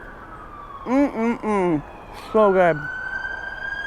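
Emergency vehicle sirens wail in the distance along a trail ride route in Oregon, a steady tone running beneath a short spoken remark.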